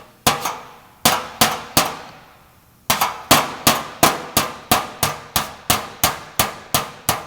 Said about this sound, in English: I'm kind of hammering it in towards the low area